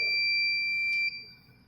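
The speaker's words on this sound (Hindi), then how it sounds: "अलार्म भी आ गया, कोई अलार्म पुश एंटर करो भाई" An SMPS power system alarm sounds as a steady, piercing high-pitched electronic tone that holds for about a second, then cuts off and leaves a faint hum.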